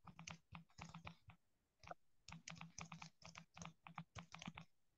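Typing on a computer keyboard during an online prayer gathering, quiet clusters of rapid key clicks in short bursts separated by brief pauses, close and faint with no talking.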